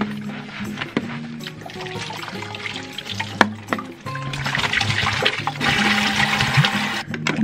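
Tap water runs and splashes while a reusable water bottle is rinsed out at a sink, a continuous close hiss and gurgle that grows louder and fuller in the second half.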